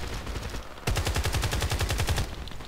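Hip-fired AK-47 in a video game: a rapid burst of about a dozen sharp, evenly spaced gunshots, loud and close, running for around a second and a half after a short quiet lead-in.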